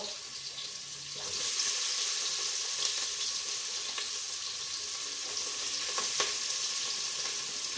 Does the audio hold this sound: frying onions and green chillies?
yes